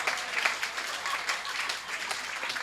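Applause from the audience at a Hindi poetry gathering, a fairly faint, steady patter of many hands clapping, with no voices on top.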